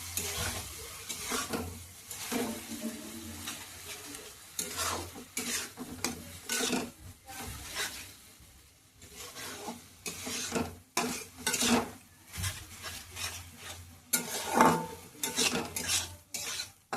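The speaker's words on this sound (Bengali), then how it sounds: "লোটে মাছটা দিয়ে ভালো করে নাড়াচাড়া করে নেব" Lote fish stirred and fried in a pan of oil, with a steady sizzle broken by repeated scraping and clattering strokes of a utensil against the pan, close and fairly loud, no talking.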